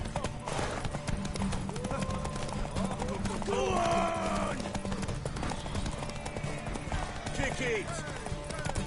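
Galloping horse hooves in a race in The Witcher 3 pound steadily throughout, mixed with game music and ambience while voices shout over them.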